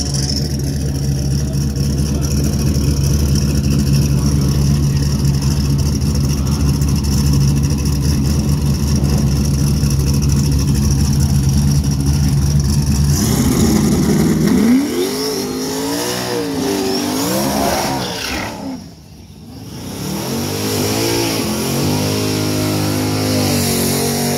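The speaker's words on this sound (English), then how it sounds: "now here's Zach's car. This thing sounds so good." A drag race car at a drag week event idles with a steady, loud, rumbling burble, then the driver blips the throttle in a series of sharp revs that rise and fall, with a brief lull before more revving.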